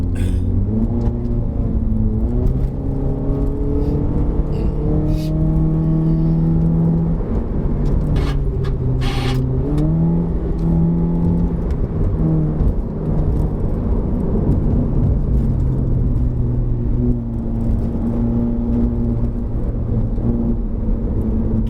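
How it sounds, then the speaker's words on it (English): A modified 2012 Honda CR-Z fan car revs and accelerates loudly and steadily in sport mode at Genting, pitch rising and falling through gear changes, with no voices. "the car's coming out of the junction, and we're going to go into sport mode"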